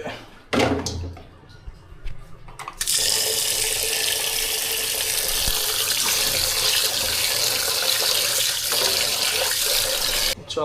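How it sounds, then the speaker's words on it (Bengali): Rice being washed under a running tap, with a few clunks and knocks at first, then a steady loud gush of water filling a pot in a sink that runs on for about eight seconds. "চাল ধুইতে হবে"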